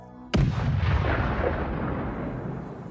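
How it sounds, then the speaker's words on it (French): Massed artillery cannons in a Warhammer 40,000 siege setting let loose with one sudden heavy boom that rolls on into a long, deep, slowly fading rumble. "Dans un boom assourdissant, rafale après rafale, un crescendo d'explosions dont le rythme s'accélérait à mesure que les minutes passaient"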